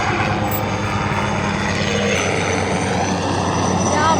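A helicopter passing overhead outdoors near a bus stand, a loud continuous rotor drone with a rhythmic low beat that holds steady through the whole stretch.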